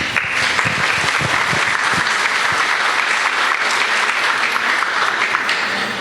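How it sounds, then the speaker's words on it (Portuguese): A crowd at a Spiritist talk on the letters of Paul breaks into loud, sustained applause, a dense wash of many hands clapping evenly throughout, close and full. "as palmas vão tudo para Jesus e para Paulo"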